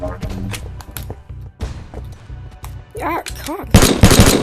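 Gunfire from a C1911 pistol in a VR shooter game, with several sharp shots and a busier burst near the end, layered over a steady rhythmic background and a voice talking.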